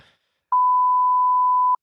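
A single censor beep, a pure steady tone held for a little over a second, loud and clean against silence with no talk around it.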